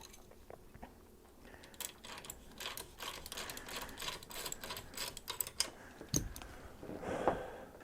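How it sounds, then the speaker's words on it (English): A crescent wrench works loose a bicycle's rear derailleur, giving close, irregular metallic ticks and clicks with short scraping bursts and one sharper clank near the end. "I'm going to take off the derailleur hanger, or take off the derailleur rather."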